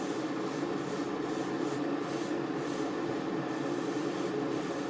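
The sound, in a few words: airbrush spraying paint onto a 1:144 model kit wing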